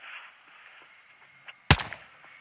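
A single sharp gunshot in Call of Duty Modern Warfare 2, a loud sudden crack with a short decaying tail, standing out over a quiet low ambient game background.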